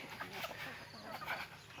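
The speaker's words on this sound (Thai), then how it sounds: "จะมาให้ดูไก่ป่าครับ" Wild junglefowl cluck and call at a farm, a steady busy chatter of birds at moderate distance, with a voice faintly mixed in.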